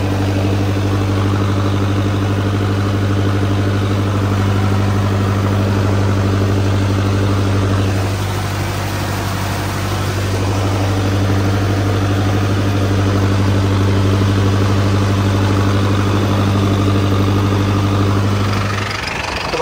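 A Mahindra tractor engine runs in low gear at 1500 RPM, a loud, steady diesel drone with a constant low hum and slight vibration throughout, easing briefly midway before resuming.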